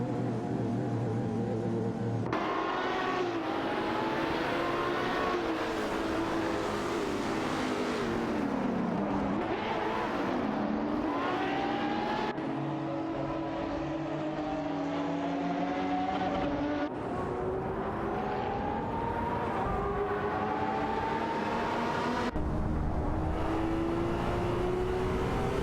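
Race cars in a video game trade places in a pack, several engine whines rising and falling as they overtake, with abrupt cuts between shots and a constant busy roar and no speech.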